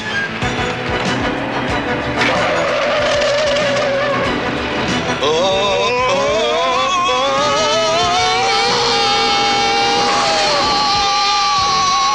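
A car with failed brakes skids and careens in a 1982 film scene, with loud engine roar and drawn-out tire squeals rising and sliding in pitch, mixed with dramatic music and no clear speech.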